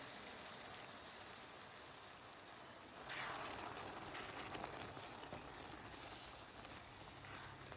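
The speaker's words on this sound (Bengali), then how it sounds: "সব কিছু দিয়ে ভালো করে নেড়ে চেড়ে আমি এবার দিয়ে দেব গরম জল" Hot water poured into a pan of mutton masala, a steady faint rushing splash that swells partway through and continues to the end, quiet and with no voices.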